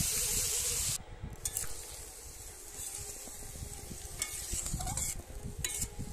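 Mustard paste goes into a pan of frying spices for a village-style kutli dish, bringing a fairly soft ongoing sizzle with stirring scrapes; a brighter hiss at the start quickly settles into a lower, steadier fry.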